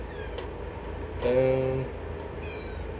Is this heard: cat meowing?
yes